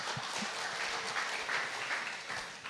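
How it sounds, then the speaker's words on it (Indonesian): A congregation claps together during a Sunday church worship service, a broad steady wash of applause that stays fairly even and moderately distant for a few seconds with no voices over it. "Tepuk tangan untuk Tuhan Yesus."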